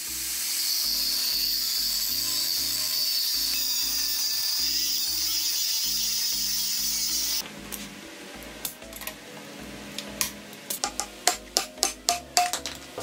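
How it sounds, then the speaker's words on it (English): A reciprocating saw cuts into a metal radius arm bushing bracket on a Jeep Dana 60 axle with a rapid rhythmic rasp for several seconds, then stops, followed by a series of sharp metallic knocks and clanks. "I basically just kind of hack away at it and chip away at it with a reciprocating saw and a grinder"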